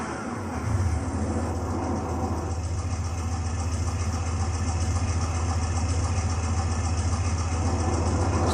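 A 1970 Plymouth AAR Cuda 340 Six Barrel in Gran Turismo 6 settles into idle after a brief start, then holds a steady, loud, deep rumble that stays constant with no talk.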